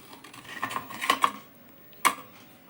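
A metal spoon scrapes and clinks against steamer plates while idli are lifted out, a few light scraping knocks in a cluster, then a single sharper clink after a pause.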